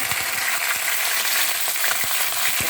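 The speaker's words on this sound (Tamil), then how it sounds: "இப்போ இருக்கிற கருவேப்பிலையை போட்டுக்கிறேன்" Curry leaves dropped into hot oil, a loud, dense crackling sizzle with scattered pops running steadily throughout, close up with no talking.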